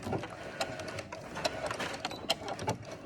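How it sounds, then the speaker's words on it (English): A sewing machine fitted with a walking foot attachment runs a wide topstitch, giving a steady, close mechanical chatter with sharp rhythmic needle clicks throughout, and no voices. "this way I'll stitch right over top of where, let's make the stitches"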